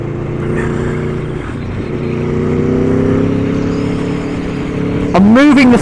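Aprilia Tuono V4 motorcycle engine running on a race map, a steady loud drone that holds for several seconds before one sharp throttle blip near the end.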